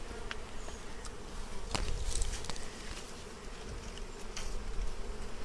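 Honey bees fly in the flight path right by a hive entrance, a faint, continuous buzzing swarm with individual bees zipping close past the microphone now and then, and no voices.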